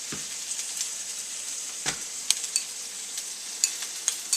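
Soy sauce hits a pan of instant ramen and shrimp being stir-fried, giving a soft steady sizzle with a few sharp scraping stirs, close by and fairly quiet.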